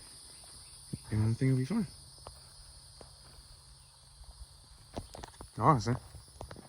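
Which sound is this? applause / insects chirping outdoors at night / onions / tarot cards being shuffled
insects chirping outdoors at night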